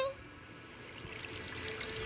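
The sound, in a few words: flowing water in the video game Minecraft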